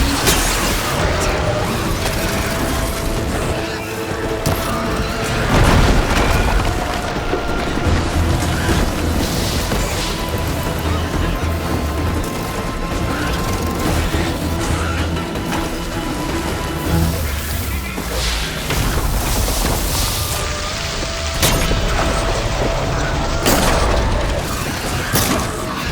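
Fire attacks burst repeatedly against a machine creature in the video game Horizon Forbidden West, loud booms and clanking metallic impacts over dense, continuous combat noise.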